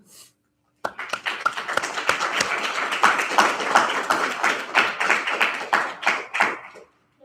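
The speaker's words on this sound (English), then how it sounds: "Keep clapping until she gets up here." Audience applause for a student speaker at a university program completion ceremony, a steady burst of close, distinct hand claps lasting several seconds after a brief pause, then stopping abruptly.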